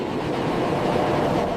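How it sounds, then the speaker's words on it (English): A serviced bullet train departs a high-speed rail maintenance facility with a steady, dense rumble of rolling stock, constant and close, with no voices. "Final view shows serviced bullet train departing facility, gleaming and ready for service."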